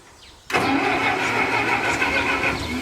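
A Massey Ferguson 65 tractor engine, with a carburetor that runs poorly, catches abruptly after a brief quiet moment and then keeps running loud and steady close by.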